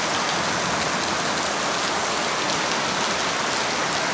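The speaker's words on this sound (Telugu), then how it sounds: "బాగా వర్షం పడుతుంది" Heavy afternoon rain pours steadily outside a porch, a dense, even hiss of drops that holds at the same level throughout with no voices.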